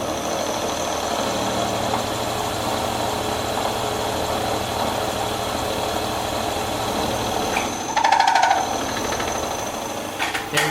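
A milling machine takes a climb pass with a cutter, putting out a steady drone with a low motor hum throughout, then a brief, brighter chattering whine near the end.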